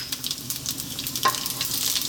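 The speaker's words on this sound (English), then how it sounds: "We're going to drop in our" Cumin seeds sizzle in hot oil in a pan, a steady bright crackling hiss with a faint clink partway through, close and continuous.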